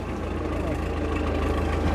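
A tractor hauling a load of brush chugs along a rough, potholed village road, its low engine rumble steady and close throughout.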